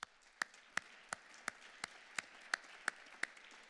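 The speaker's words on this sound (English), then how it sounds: "So I want to thank all of you, and a round of applause," A few slow, evenly spaced claps ring out, about one every third of a second, over a quiet room at an interfaith council anniversary event in a museum.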